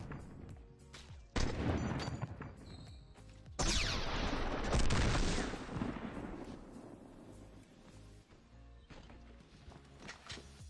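Rapid bursts of gunfire from the video game Fortnite, several loud sharp shots in quick succession with game noise and clattering effects between them, no talking.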